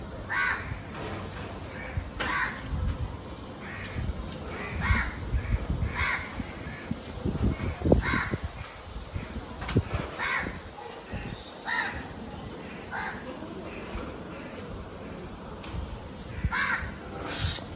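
Crows caw repeatedly near their nest in scattered bursts over outdoor background noise during a nor'wester storm, with faint voices at times.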